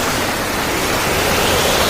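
A storm sound effect for a school stage drama about a ship at sea gives a loud, dense, unbroken roar of strong wind and big crashing waves, steady throughout with no voices.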